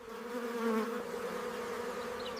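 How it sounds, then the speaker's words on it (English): Honeybees inside a hive make a steady, dense buzzing drone with a faint wavering pitch, continuous and close throughout. "Bees operate with extremely short rest cycles inside the hive."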